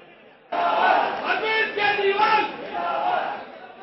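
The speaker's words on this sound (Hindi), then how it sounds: "केजरीवाल की एंट्री पर यहां भी नारेबाजी हुई।" An angry crowd of party supporters at a political seminar chants slogans in unison, loud and close, with rhythmic swells of massed voices that break in suddenly and continue steadily.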